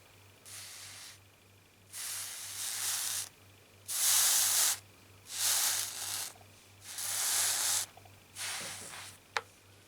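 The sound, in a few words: hot steam iron releasing steam through a wet cloth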